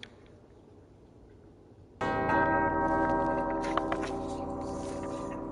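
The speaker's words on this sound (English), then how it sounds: "Two bells resound in perfect harmony." Two church-like bells ring out together in the Uncharted: Drake's Fortune video game, starting abruptly after a quiet moment and sustaining a loud, rich harmonic tone that hangs and slowly decays.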